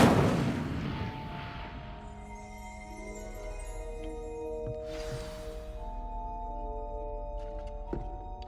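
Incendio fire spell cast in the Hogwarts Legacy video game: a soft whooshing burst of magic at the start, then a sustained tonal shimmer with a second swell midway and a sharp thud near the end.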